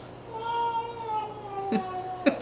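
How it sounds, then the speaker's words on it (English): Cat meowing indoors, a drawn-out wavering meow followed by two short sharper calls, close and moderately loud. "Cat has an attitude right now."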